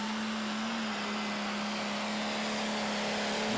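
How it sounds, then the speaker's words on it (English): A pulling tractor engine screams at high RPM during a tractor pulling Eurocup final at Great Eccleston, heard as a steady, sustained drone at a distance under the open-air ambience. "Mike Simmons giving it a lot of RPM there."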